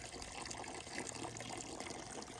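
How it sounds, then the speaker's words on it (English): Steady, close water gushes from a mountain spring at Grandfather Mountain State Park in North Carolina: a continuous, even splashing rush with no voices. "We come down here to the Shanty spring."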